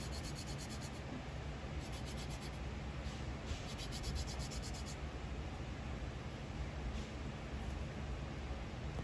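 Steady, continuous rasping from a file or sandpaper flattening the back of a metal casting, an even close-up scrape with no pauses and no talk.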